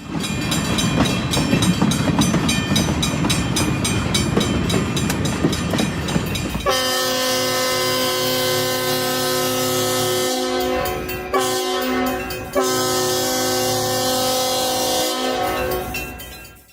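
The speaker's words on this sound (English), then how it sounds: "Train 61, the westbound Golden Gate, arrives into Berkeley." A Santa Fe passenger train, Train 61, the westbound Golden Gate, rumbles in loud and close at Berkeley depot, then sounds a long multi-tone horn in several sustained blasts with brief gaps over the rolling cars.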